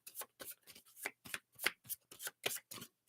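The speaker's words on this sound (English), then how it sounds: "It's hard to shuffle." A deck of angel oracle cards being shuffled by hand in a quick series of about ten crisp riffling bursts, close and clear with no talking.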